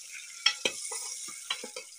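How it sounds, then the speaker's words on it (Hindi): Chopped onions frying in a pan for a baby jackfruit curry, with a steady sizzle and several sharp scraping stirs spread through the two seconds, close and moderately loud. "अब प्याज को मैं अच्छे से फ्राई कर लेती हूँ।"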